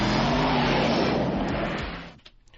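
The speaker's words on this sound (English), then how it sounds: "That was the director crashing his car into a wall." Radio sound effect of a car crashing into a wall: a loud, dense roar of engine and crunching noise that holds for about two seconds, then breaks into a few scattered clattering impacts as it dies away.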